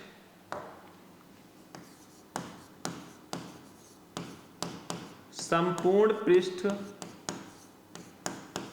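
Chalk or pen taps and scratches out writing on a board during a physics lesson, short strokes and clicks spaced through the passage, with a voice speaking briefly partway through.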